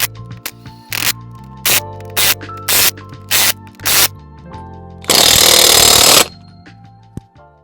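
An impact wrench tightens lug nuts onto a 2-inch Rough Country wheel spacer in about seven short, loud, rattling bursts, followed by one longer sustained run.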